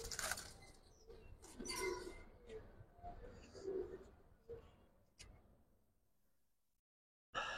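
Silver Giribaz and Jabra pigeons in a loft give soft, low coos and sudden bursts of wing flapping and rustling, close by and intermittent. The sound fades to near silence before a sharp burst at the end.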